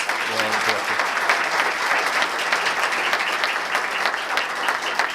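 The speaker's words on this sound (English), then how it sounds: "So how about a round of applause for our director?" An audience gives a round of applause for a development director at a civic ceremony with a mayor present, loud, dense, sustained clapping, with a brief voice audible underneath at the start.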